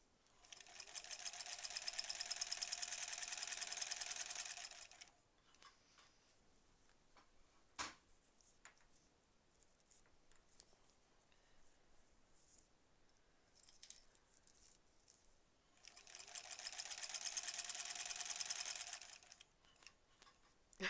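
Sewing machine stitching through a wool knit sweater in two loud, steady runs of rapid mechanical whirring, with a quiet pause and a single sharp tick between them.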